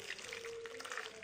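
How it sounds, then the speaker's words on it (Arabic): Hot water pours over cauliflower in a pot in a home kitchen, a continuous close splashing gush with a steady tone running underneath. "وبعد كده هنحط ميه سخنه"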